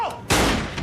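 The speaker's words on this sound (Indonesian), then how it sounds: "Anggota militer terpaksa melepaskan tembakan karena ada perlawanan." A single sharp burst of gunfire, loud and close, cutting in abruptly with a short ringing tail after a brief faint sound.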